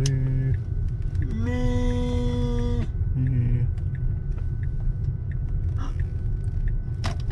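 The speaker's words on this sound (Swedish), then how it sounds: "Bilen håller på att värma batteriet. Det är det som låter" A steady low electric whine and hum with a rising-then-level tonal drone midway, from an electric car heating its battery, constant and close.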